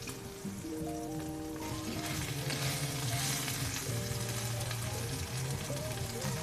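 Five spice chicken sizzles steadily in a hot pan while the pieces are flipped, a loud continuous crackling frying sound with clattering utensil contact and a steady low hum underneath.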